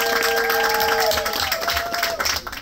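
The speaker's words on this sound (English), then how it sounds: "Let's give a clap up for them real quick." A crowd claps for local artists at a Hampton arts gathering, a steady wash of applause with a few tonal sounds over it that tails off near the end.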